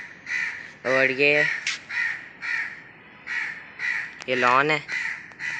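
Crows at their nest in a tree beside a lawn caw repeatedly and loudly nearby in harsh, ragged calls, while a person talks over them.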